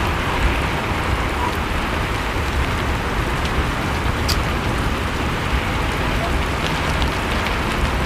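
Heavy rain pours steadily onto surfaces outdoors, a dense, loud, unbroken hiss and patter lasting throughout with no break.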